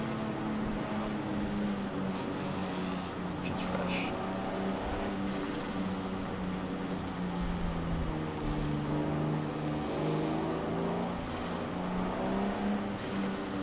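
A car engine in Forza Horizon 4 hums at a steady cruising drone during a stance and widebody car meet, holding an even, moderately loud tone throughout with no talking over it.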